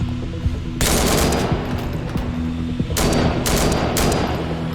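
Bursts of rapid automatic gunfire in the video game BlackSite Zeta, loud dense volleys in three clusters separated by brief quieter gaps, no talking.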